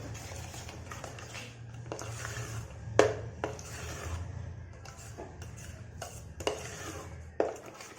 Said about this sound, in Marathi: आता याला व्यवस्थित असं मिक्स करून घेऊ.